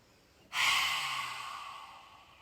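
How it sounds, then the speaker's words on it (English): A single long inhalation during a qigong breathing exercise: a sudden, close, airy in-breath that starts sharply and slowly fades over about two seconds, with no talking. "Breathe in."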